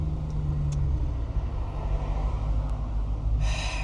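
BMW E92 M3 with a V8 engine idling and crawling in traffic, a steady low rumble heard from inside the car without talk.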